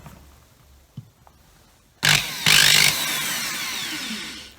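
A handheld power drill set to hammer mode starts abruptly and grinds against a plastic GoPro case, a loud steady whine with a brief surge, preceded by a couple of soft clicks.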